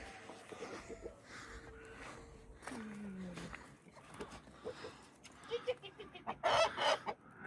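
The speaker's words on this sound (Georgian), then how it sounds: "ეს მამალი გლახა არის" A rooster in a home yard clucks softly and lets out a drawn-out crow, then a few sharp squawks, all fairly faint against outdoor background noise with some voices.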